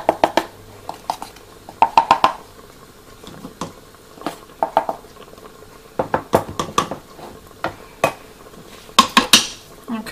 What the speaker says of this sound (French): Donc je mélange la maïzena avec l'eau.